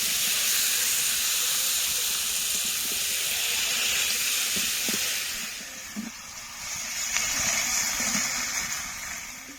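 Marinated chicken goes into fried onions in a pan and sizzles with a loud, steady hiss. The hiss eases for a moment and then swells again, with faint clinks from a utensil.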